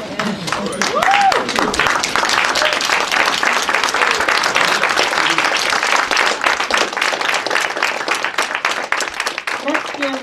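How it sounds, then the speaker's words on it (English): An audience at a Black History Month tribute to elders claps in a loud, dense round of applause that carries steadily throughout, with a brief voice cheering near the start. "Everybody who can stand, give them a round of applause."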